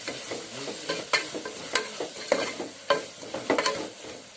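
Masala for a coconut-roasted mutton curry being sautéed in a pan, with a spatula scraping and stirring in irregular strokes over a soft, continuous sizzle, close and alone.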